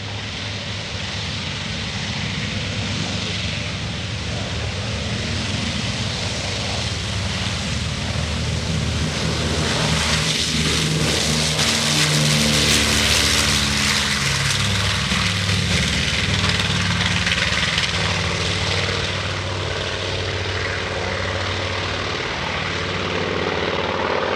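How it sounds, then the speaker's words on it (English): Loud, sustained roar of a B-25 Mitchell bomber's radial piston engines passing close by at an airshow, swelling to a peak midway and fading slightly, with a rough throbbing clatter throughout. "The beautiful clatter of those radial engines"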